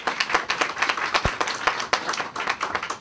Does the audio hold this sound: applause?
yes